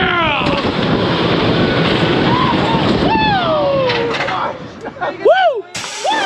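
Riding the Iron Gwazi roller coaster at Busch Gardens Tampa, with a loud roaring rush of wind and track noise while riders whoop and shout throughout, the roar easing near the end.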